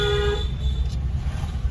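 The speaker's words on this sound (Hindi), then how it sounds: "लॉन्ग हॉर्न पुश करो" A car horn sounds during a driving lesson on a narrow single-lane road, one bright tonal honk at the start that fades after about half a second, leaving a low engine and road rumble.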